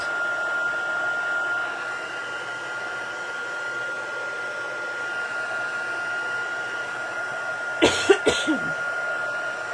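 A handheld heat dryer blows steadily and close by, a constant whirring hiss drying stamped ink on paper, with a short cough or throat clearing near the end.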